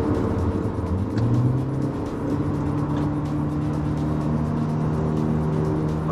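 A car is heard from inside the cabin, its engine droning steadily and rising in pitch as it accelerates at about 80 km/h to overtake a motorbike, with road noise and no speech.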